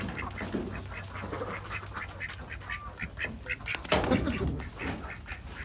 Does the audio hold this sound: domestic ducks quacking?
yes